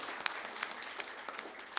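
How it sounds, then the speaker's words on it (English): Audience at the 2017 UAE India Business Fest in Sharjah applauds, a faint, steady patter of clapping with a few sharper individual claps standing out, no one speaking. "we have to give a big round of applause for that"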